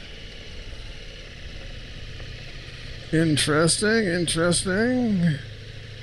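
A 2023 Ducati Multistrada V4 S motorcycle engine hums at a low, steady idle on thick gravel, then a voice speaks briefly over it.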